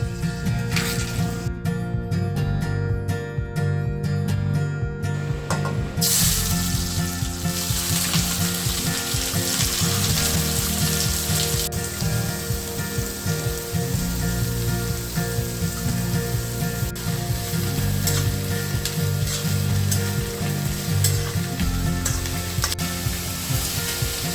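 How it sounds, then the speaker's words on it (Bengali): Onions being stirred and sautéed in oil, a dense continuous sizzle with rhythmic mechanical clicking and scraping throughout, loud and close. "নেড়ে যেতে হবে পেঁয়াজকে ঘাম ছড়াতে হবে কারণ পেঁয়াজ জল ছাড়ছে"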